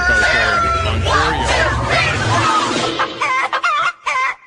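Chickens cluck and a rooster crows loudly in a busy sound-effect burst, layered calls overlapping before breaking into short choppy fragments at the end.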